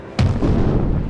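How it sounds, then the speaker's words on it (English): Cannon fire from a video game set around a castle, a single sharp boom that cracks in suddenly and rolls into a rumbling, muffled aftermath; no talking. "The sound of cannon fire cracked loudly in the distance"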